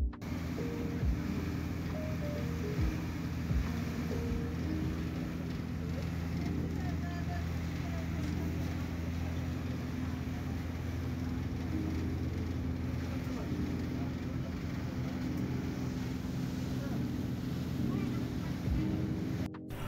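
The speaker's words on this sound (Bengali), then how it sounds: "আর লঞ্চটি এখন যাচ্ছে পাতারহাটের দিকে।" A passenger launch cruises along a river towards Patarhat, its steady low engine drone and hull rumble continuing throughout with wind buffeting and water wash, moderately loud and unbroken.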